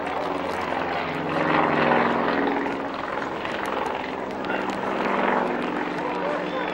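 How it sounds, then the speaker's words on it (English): Display aircraft engine roaring steadily as the plane pulls up into a vertical dive at the 1998 Middle Wallop Army Air Corps airshow, a loud sustained drone with rising and falling power, heard under an announcer's commentary. "That's all done on sheer power from that engine into a vertical dive"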